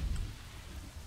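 Rain in the video game Kingdoms and Castles, a faint, steady wash of falling rain with a soft low rumble underneath, brief and unbroken.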